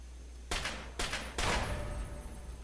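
Frag mines in a minefield in the video game Fallout 3 go off in three loud, sharp blasts about half a second apart, each with a ringing, crackling tail and no talking.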